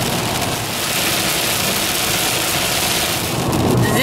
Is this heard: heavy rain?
yes